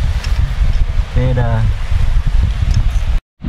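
Strong wind blows during a fishing outing in the windy season, a constant low roaring rumble buffeting the microphone throughout while someone talks over it, ending in a brief cut to silence.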